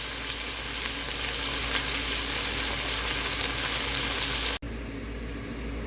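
Pork chops fry in a pan with a steady, close sizzle and crackle that continues evenly, briefly dropping out for an instant near the end before resuming, no talk.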